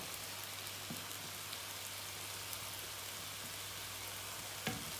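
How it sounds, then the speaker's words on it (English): Mushrooms frying with bacon in a pan, a soft, even crackling sizzle that stays steady and fairly quiet throughout, with no voices. "I'm just adding in the mushrooms now."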